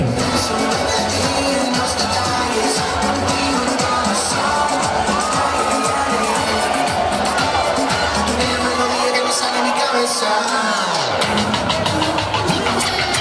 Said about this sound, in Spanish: Ahora mismo fuerte aplauso